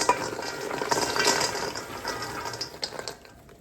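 Roasted pecan pieces dropped into a pan with a little butter, a rustling clatter of nuts, then a few sharper knocks and scrapes as they settle.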